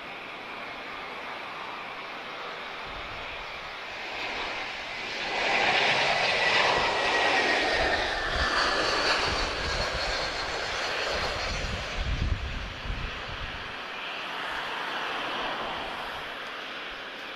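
An Airbus A320-232 airliner arrives on landing in a light crosswind, a broad jet engine roar that swells in the middle and then holds steady as it passes fairly close.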